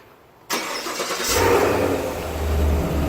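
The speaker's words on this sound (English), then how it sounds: "let's go and start by remote starting it" A 2017 Chevrolet Camaro SS convertible's V8 starting by remote in a parking garage: a sharp onset, then a rising roar that settles into a steady, deep rumble, close and alone.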